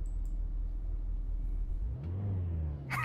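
Low engine rumble from a car in a PC VR driving game, idling before rising into a revving pitch sweep as it pulls away, moderately loud and without talk.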